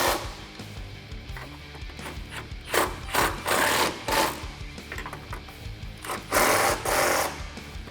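A 13mm deep socket on a ratchet tightening strut tower nuts on a 2008-2019 Dodge Challenger, bursts of quick ratcheting clicks in several repeated runs, close and loud.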